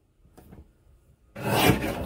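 Pink cardstock trimmed on a paper trimmer while assembling a card kit: faint handling at first, then a loud, close, sustained rasping slide of the blade across the sheet for under a second.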